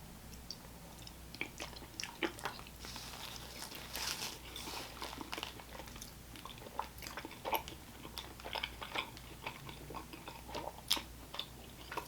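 Little Caesars pizza dunked in garlic butter being bitten and chewed up close, soft wet mouth noises with scattered crisp crunchy bites at an irregular rhythm, fairly quiet and without talk.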